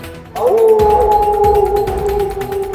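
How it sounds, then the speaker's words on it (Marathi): A jackal's long sustained howl rises abruptly and holds a steady wavering tone close and loud until the end, over a low rumbling background. "तिला कोल्ह्याचा आवाज ऐकू आला"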